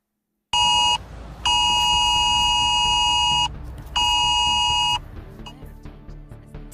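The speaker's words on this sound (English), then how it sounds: "Your phone will vibrate and make a sound for 10 seconds." UK emergency alert test tone on a phone blares in loud, piercing electronic bursts, a short blast followed by two long sustained beeps with brief gaps, then the tone stops and quieter background noise remains.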